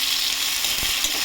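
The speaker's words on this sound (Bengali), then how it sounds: "আলুটা ভাজা হোক" Potatoes fry in a pan with a loud, continuous, even sizzle and crackle of hot oil, close up, with no voices.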